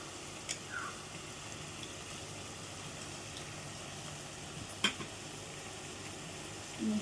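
Carrot halwa sizzles softly in a pan as fried raisins and cashews go in, a steady low frying hiss with a couple of brief stirring clinks and scrapes, no voices.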